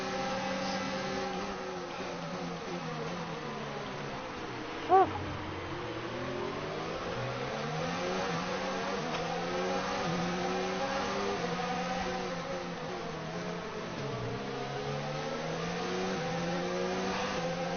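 Formula 1 cars race in F1 2019 at the China circuit, a continuous high engine whine sweeping up and down in pitch as the cars accelerate and lift, with one brief click partway through and no talking.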